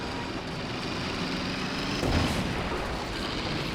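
An infantry support gun fires in Company of Heroes 2, a single heavy boom around the middle of a continuous rumbling battle bed with engine-like drone throughout.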